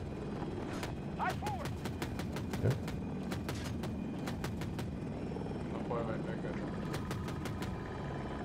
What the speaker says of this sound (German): Heli kommt auf uns zu, von ganz oben.